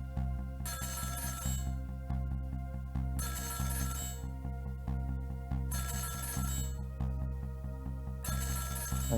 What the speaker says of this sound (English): About 2 hours before dawn, the phone rang.